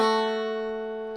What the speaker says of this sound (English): the pattern is of the rhythm guitar is basically this